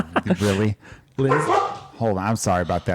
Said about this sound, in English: I'm sorry my dog's barking in the background